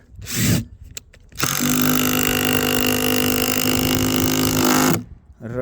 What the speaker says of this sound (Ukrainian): тепер два турбовінта закрутити і відкрутити